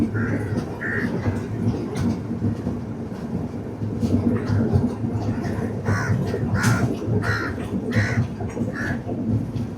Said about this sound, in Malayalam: WAP7 ലോക്കോമോട്ടീവ് അതാ